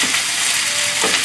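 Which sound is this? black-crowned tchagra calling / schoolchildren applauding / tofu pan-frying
tofu pan-frying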